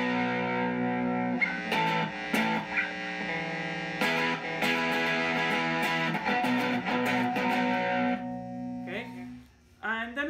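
Distorted electric guitar strums sustained chords of a song with a thick, buzzy tone, changing shape every second or two before trailing off near the end.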